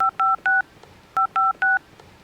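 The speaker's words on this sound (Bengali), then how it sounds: "তো ফোন দেই আগে" A telephone number is punched in on a keypad: six distinct touch-tone beeps in two quick groups of three, separated by a short pause, clear and close.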